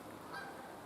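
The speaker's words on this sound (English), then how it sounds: "Canada goose is sitting here on a nest." A Canada goose near its nest gives a single faint, brief honk from a distance in a quiet outdoor setting.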